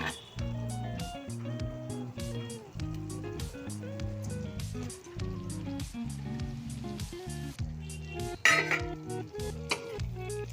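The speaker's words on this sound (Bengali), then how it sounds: "এবারে আমি ভেজে রাখা পনিরগুলো এতে দিয়ে দিচ্ছি।" Fried paneer cubes are stirred into a cooked spice masala for shahi paneer, with steady sizzling and repeated scraping of a spoon against the pan, plus a brief louder clatter near the end.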